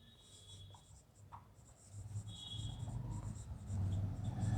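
Pen or chalk writing out a mathematical proof by hand, steady scratching strokes that grow louder and more continuous toward the end, close and alone without talk.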